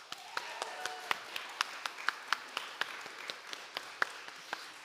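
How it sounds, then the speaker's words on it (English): Applause from an audience for the performers at the close of the Young Norfolk Arts Festival 2021 launch night, heard as sparse, fairly quiet individual claps in a steady rhythm rather than a dense ovation. "Can we please have a round of applause for all of our performers?"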